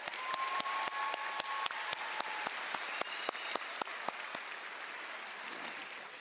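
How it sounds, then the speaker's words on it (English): Applause from an awards-show audience at the 2025 ESPYS, faint and distant, a soft wash of clapping punctuated by regular sharper claps over about six seconds. "clap it up"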